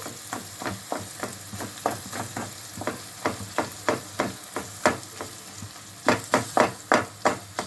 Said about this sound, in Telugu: ఆయిల్లో బాగా ఫ్రై అవుతుందండి టమాటాను, ఆనియను.